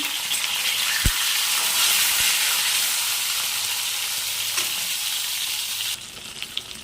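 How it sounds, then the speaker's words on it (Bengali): Pointed gourd frying in a generous amount of mustard oil, a steady, loud sizzle that stays constant throughout, with a couple of faint clicks and a slight drop near the end. "এই পাশে পটলগুলো ভাজতে দিয়ে দিয়েছি"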